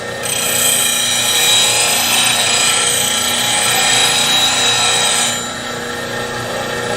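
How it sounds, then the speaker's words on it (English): A woodturning gouge grinds against a spinning grinder wheel in a continuous loud, close rasping rub that eases off near the end as the wheel keeps running. "So this is me sharpening one of my gouges."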